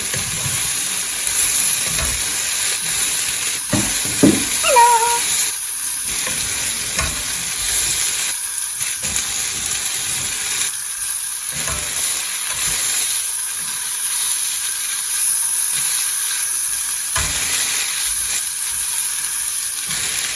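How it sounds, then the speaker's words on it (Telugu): Flat beans curry frying steadily in a pan, a loud continuous sizzle and hiss throughout with a few faint stirring scrapes and clinks early on. "కూర అలా వేగుతుంది."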